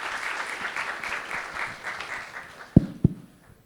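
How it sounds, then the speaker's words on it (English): Audience applause after a question-and-answer session at a business event, a steady broadband patter of many hands that fades toward the end, with two sharp thumps near the close. "Please give a warm round of applause."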